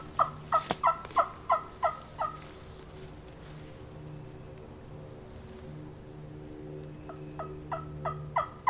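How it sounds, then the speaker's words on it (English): Wild turkey gobbles from across a river come in quick, sharp bursts, first a fast run of notes and then another burst near the end, with a quiet gap between. "He just gobbled again. He's a lot closer."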